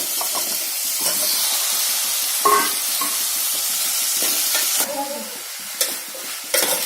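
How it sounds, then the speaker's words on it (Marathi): Red pumpkin pieces tumble into a hot pan with turmeric and fry with a steady sizzle and hiss, broken by a few stirring clatters and scrapes toward the end, close and alone with no talk. "आणि आता हे भोपळ्याचे पीसेस घालणार आहे।"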